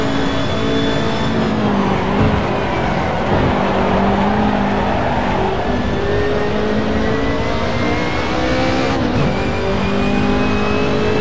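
A BMW M3 E30 Group A race car engine roars continuously at Mugello in the racing game Assetto Corsa, loud and close, its pitch rising and dipping with gear changes and throttle.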